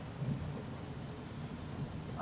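Rain falls over the streets of the camp area in Pune, India, a faint, low, steady wash with soft rumbling undertones and occasional light patters, no voices.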